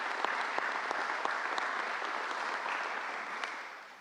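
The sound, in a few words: audience applause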